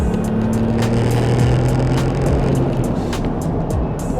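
A Porsche 996 911 Turbo with a manual gearbox pulling hard in third gear, a loud, continuous engine roar mixed with heavy road and wind noise throughout.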